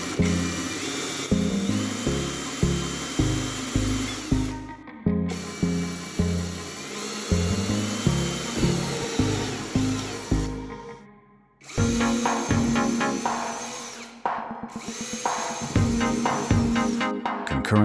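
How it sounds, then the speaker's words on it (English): A drill bores a series of small perforations in the structure of a homemade air cooler. It sounds like rapid, rattling whirring bursts, each stopping and starting again, with short pauses between holes and a longer gap near the middle. "we will proceed to drill a series of small perforations in the structure"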